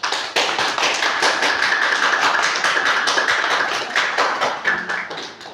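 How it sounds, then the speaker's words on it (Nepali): Hearty applause at a ceremony welcoming a donor granted lifetime membership of an elder care shelter, a dense steady crowd clapping that runs throughout, loud and close. "उहाँलाई जोरदार तालीबाट स्वागत गर्नु"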